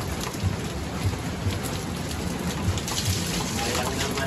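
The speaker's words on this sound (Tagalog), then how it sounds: "ay ang lakas ng ulan" Heavy rain pours in a dense, constant roar, with low rumbles of thunder rolling underneath. The downpour is loud and close throughout, and no voices rise above it.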